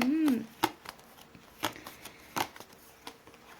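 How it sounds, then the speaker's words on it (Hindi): Tarot cards are drawn from a deck in quiet crisp slides and soft taps, scattered across a few seconds, with a brief voice at the start. "और दो कार्ड्स निकालेंगे गाइस"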